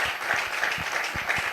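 Congregation at a French-language church service claps and cheers in praise, a steady wash of applause with rhythmic hand claps through the short stretch, no one speaking over it.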